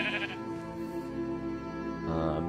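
A sheep in Skyrim bleats in one long, loud, wavering call, followed by a second bleat starting near the end, with a wolf attacking it in the game.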